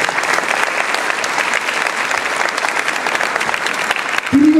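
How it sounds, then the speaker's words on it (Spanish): Church audience at a youth gathering applauding after a scripture reading, dense sustained clapping filling the whole clip at close range, with a voice starting right at the end. "Le damos un fuerte aplauso a la palabra de Dios."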